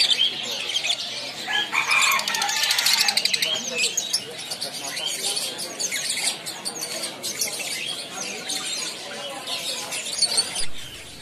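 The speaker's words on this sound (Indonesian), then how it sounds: "namanya pasar burung ya, pasti berisik." Many birds chirp and tweet constantly in a busy, noisy bird market in Ponorogo, with wings fluttering and people talking faintly in the background.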